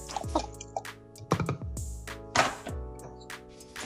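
Lumps of jaggery are dropped into homemade sugarcane juice, giving a few soft plops and wet drips at close range over a steady tonal background.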